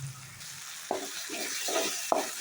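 Ginger garlic paste sautéing in oil for a Tamil-style chicken gravy, a steady soft frying hiss with several short scraping stirs of a spoon against the pan, close and moderately loud.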